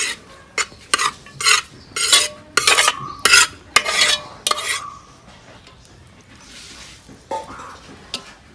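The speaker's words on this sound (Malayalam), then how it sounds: "കുറച്ച് ഓയിൽ ബാക്കിയുണ്ട് അതിലേക്ക് കുറച്ച് ചോറിട്ടിട്ട് എടുക്കാം" Rice being stirred into a little leftover oil in a pan while making green dum biryani: a run of distinct scraping and clinking strokes from a spoon against the pan, close and fairly loud, then quieter and sparser toward the end.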